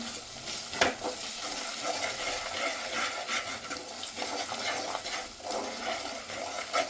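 Curry with red chilli powder and coconut paste being stirred in a pan, a steady wet scraping and sizzle with several louder clacks of the spoon against the pan, no talking.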